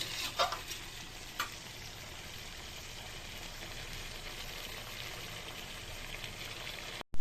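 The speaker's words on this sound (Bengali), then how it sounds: "আবার একটু ভালো করে কষিয়ে নেব এবার এই জলটা পুরো টেনে যাবে" Vegetarian Bengali potato and pointed gourd curry sizzles steadily in a pan while being stirred, with a couple of brief scraping clinks early on and no voices.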